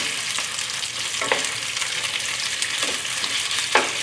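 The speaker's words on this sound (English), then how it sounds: "So after I add the chicken in, I let them get a chance to fry before I give them a quick turn." Chicken sizzling in a very hot pan for chicken chop suey, a steady loud fry with a few soft scraping turns of a utensil close by.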